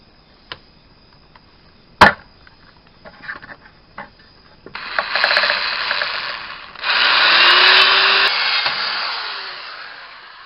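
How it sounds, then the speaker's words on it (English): A power drill bores holes through a metal OEM speaker mount while rear speakers are replaced on a Toyota Camry. A few clicks and taps come first, then two loud, close, sustained whining bursts of drilling. "set your drill up so you can drill them"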